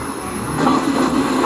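A passing Indian Railways train rumbles steadily near Shoranur, its wheels letting out a sustained metallic squeal that swells midway through, loud and close with no talking.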